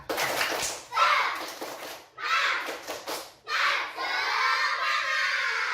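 A classroom of children chanting and clapping together in bursts, loud group voices with rhythmic hand claps in short rounds separated by brief pauses, with a teacher leading.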